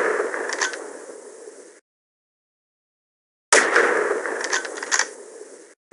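Repeated gunshots at moving targets on a Half-Life: Opposing Force training range, two bursts of sharp clattering reports separated by a silent gap, close and fairly loud with no talk.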